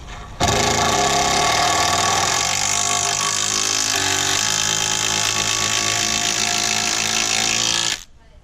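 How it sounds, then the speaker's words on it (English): An impact driver sinking a long bolt into a raised garden bed, one loud sustained whirring run lasting about seven seconds with rapid hammering impacts and a slight drop in pitch partway through, close, then stopping abruptly. "really cool thing about the impact driver is it's going to put a lot of torque behind this bolt"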